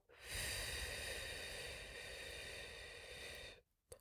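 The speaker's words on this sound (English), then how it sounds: "Inhale for 4, hold for 4, exhale for 4," A long, steady breath of air during box breathing lasts over three seconds, close and fairly quiet, followed by a brief pause and a small catch at the end.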